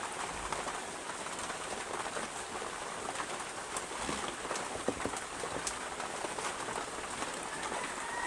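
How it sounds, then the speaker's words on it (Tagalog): Steady morning rain falling on surfaces outdoors, a dense even hiss with scattered drops that holds at a constant moderate level throughout with no talking. "Umagang umuulan."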